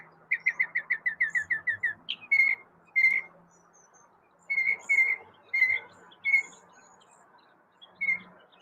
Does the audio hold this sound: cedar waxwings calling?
yes